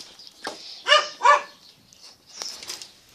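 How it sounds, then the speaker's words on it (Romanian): A dog barks twice in quick succession up close, followed by softer yips and whines, with quiet pauses between. "O să vă arăt câinele meu."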